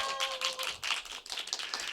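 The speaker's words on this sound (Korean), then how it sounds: "박수 더 크게 쳐주셔야죠." An audience applauds at a Korean film screening and guest talk celebrating a triple award win, giving a steady wash of clapping that swells and dips for a couple of seconds without any voices.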